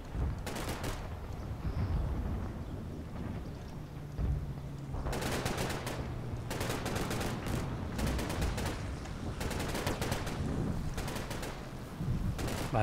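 A machine gun crew fires in Combat Mission: Battle for Normandy, rapid bursts of automatic gunfire repeating in clusters over several seconds, moderately loud, with scattered shots between.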